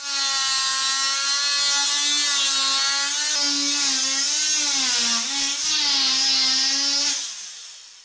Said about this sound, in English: my vibro saw will now slip in